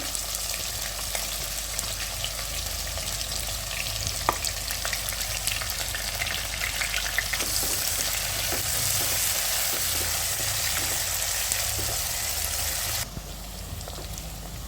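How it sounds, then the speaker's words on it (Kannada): Onions fry in a hot pan for chicken biryani, with a constant, fairly loud sizzle and scattered pops and crackles, heard alone throughout. "ಚಿಕನ್ ಬಿರಿಯಾನಿಗೆ ಆನಿಯನ್ ಫ್ರೈ ಮಾಡ್ತಾಯಿದ್ದೀನಿ"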